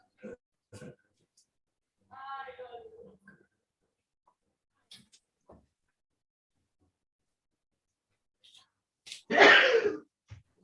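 A single loud, explosive sneeze bursts out near the end of an aikido class, preceded by a few scattered soft voice sounds and quiet pauses.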